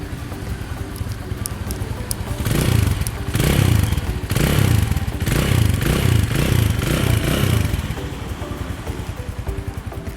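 A 2019 Stallion Makina 250 cafe motorcycle idling close, then the engine revved in a long throaty burst that rises and falls over several seconds before settling back to a rough idle.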